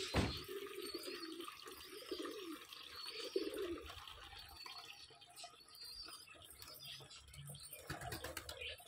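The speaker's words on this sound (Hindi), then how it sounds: "सबसे पहले मैं इनको पानी भी फिल कर देता हूँ सारे बर्ड्स का।" Water runs and splashes steadily into the water containers for pet doves, a soft, continuous trickle heard close by. Faint dove coos sound in the background, and no one speaks.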